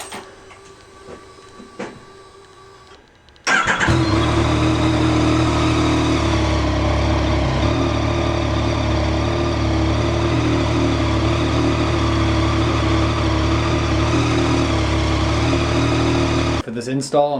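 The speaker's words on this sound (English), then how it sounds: "I'm going to let you guys hear it as is with the stock pipe" A Yamaha FZ-09 motorcycle with its stock exhaust pipe roars loudly and steadily in an enclosed space, sustaining a dense engine drone for about thirteen seconds before cutting off, after a quieter stretch of background noise.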